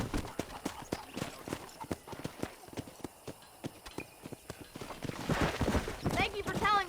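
Horse hooves clip-clop at a steady riding pace while herding cattle in the Western video game Red Dead Redemption, with a whinny near the end and voices talking over much of it.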